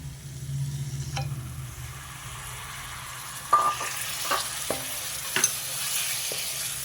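Washed mutton hitting ginger garlic paste in a hot pan gives a steady low sizzle, with a few sharp stirring scrapes and clinks partway through, close by and with no one talking.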